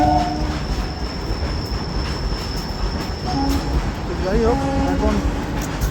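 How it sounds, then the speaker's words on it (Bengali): A goods train running through Ultadanga railway station, a continuous rumble of wagons with squealing wheels and tonal screeches, fairly loud and steady, while someone speaks briefly over it. "আজকে ট্রেনটা দিয়েছে দূরে, কারণ ওই দিক দিয়ে আজকে মালগাড়ি যাচ্ছে।"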